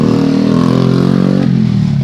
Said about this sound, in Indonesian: dia hanya mengeluhkan ini suaranya kasar